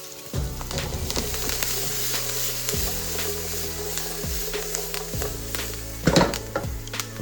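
Vegetables, including carrots, hit a hot preheated pot for a farmer's pie and sizzle steadily, with a few clunks and scrapes of stirring and a louder clatter near the end.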